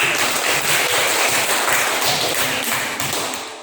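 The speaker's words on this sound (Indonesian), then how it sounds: "tepuk dulu tangan buat kita" A classroom audience claps together in a dense, steady round of applause that fades slightly toward the end.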